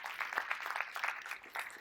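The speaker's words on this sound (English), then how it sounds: "Give him a round of applause." Audience applause at a business talk: a short burst of scattered clapping from a crowd, fairly faint and uneven, with no clear speech over it.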